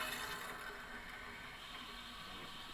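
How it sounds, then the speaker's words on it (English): Fuel flowing through the fuel system of a twin-turbo Mustang during a rebuild, a steady, even liquid rush and hiss that holds at a constant level with no talking. "I hear a lot. I hear fuel flow."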